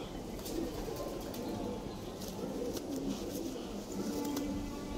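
Madrasi flying pigeons coo low and steadily over a constant background hum, with faint clicks scattered through, close and quiet.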